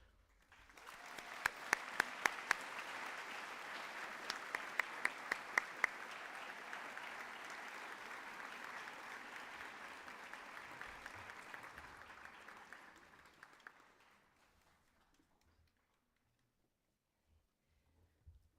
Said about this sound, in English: may we have one more round of applause for Noah and Madeline?